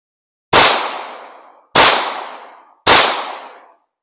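Three loud, sharp shots from a Canik Mete pistol, evenly spaced about a second apart, each followed by a long ringing echo that fades before the next.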